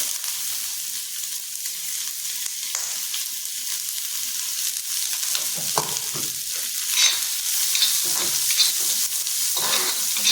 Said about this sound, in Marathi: आता ह्यात तेलात आपण कांदा घालणार आहोत